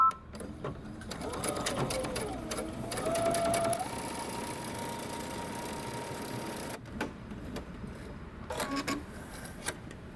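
A home sewing machine runs a long continuous line of gathering stitches on a bodycon dress with puff sleeves, starting with a short back stitch. The whirring motor is steady and close, and speeds up and slows down now and then.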